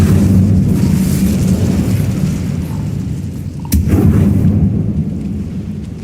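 Incendio fire spell cast in Hogwarts Legacy, a loud, continuous rumbling roar of flame and combat noise with a brief sharp crack midway, heavy low-end throughout.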